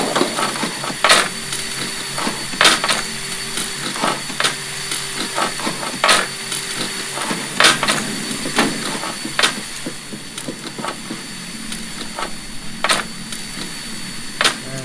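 Chainsaw hazard in the horror game Half-Dead 2, a steady mechanical whir with repeated sharp clanking hits at irregular intervals, loud and continuous with no talk.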